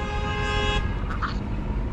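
Car horns toot in street traffic, a steady high-pitched blare for under a second followed by a couple of shorter beeps, with traffic noise rumbling underneath.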